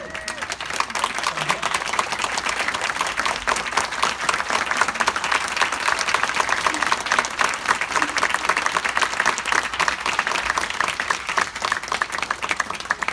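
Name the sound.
applause at naturalization ceremony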